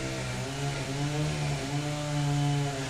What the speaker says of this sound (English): Y'all gonna run the chainsaw now?